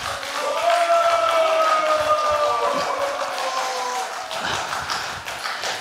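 Audience applause fills a lecture hall at a health lecture, a steady wash of clapping at moderate loudness that thins toward the end, with a sustained tonal hum running underneath.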